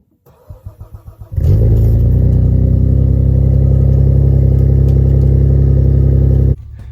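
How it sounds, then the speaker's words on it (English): Saab 9-3 cold start: the starter cranks in several rhythmic pulses, then the engine catches and settles into a loud, steady idle with no revving, close up, before cutting off. "I figure I will give you guys a cold start, and I'm not going to be revving the engine at all"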